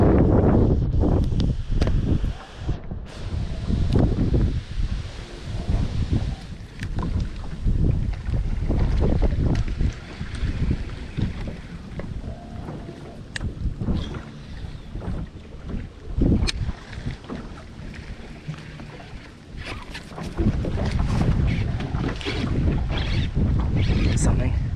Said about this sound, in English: out there it's getting pretty windy